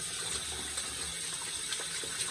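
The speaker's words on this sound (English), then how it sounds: "So I'm running the water and I'm swirling it out" Tap water runs steadily into a bowl while a shaving brush is swirled and rinsed, a continuous, soft, close splashing gush with no talking.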